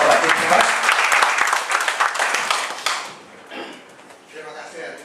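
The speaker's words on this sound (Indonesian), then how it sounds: "Tepuk tangan untuk Bapak James Rompas." An audience applauds at the opening ceremony of a training program, with dense, loud clapping for about three seconds that then thins out and fades to scattered claps.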